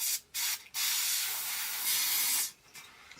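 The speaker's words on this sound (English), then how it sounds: "spray this along the hairline" Hair spray hisses from a can along the hairline of a blonde bob wig: two short bursts, then one long continuous spray, followed by a couple of faint puffs.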